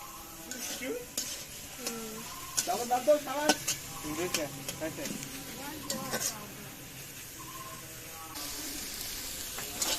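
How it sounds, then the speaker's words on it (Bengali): Ash gourd leaves fry in a pan, a faint sizzle under intermittent stirring and scraping of a utensil against metal, with someone speaking at times over the cooking. "আমার এই চাল কুমড়ার শাক ভাজি কিন্তু ভাজা একবারে রেডি হয়ে গেছে"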